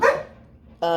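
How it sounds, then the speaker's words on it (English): A dog gives two loud, close barks, the first fading away before a second sharp bark begins, heard in the background of a room. "Yeah, sorry for the background noise. That's my dog."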